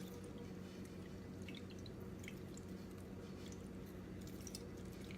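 Oat milk being squeezed through a straining bag gives faint, scattered drips and soft wet squelches over a quiet, even background hiss.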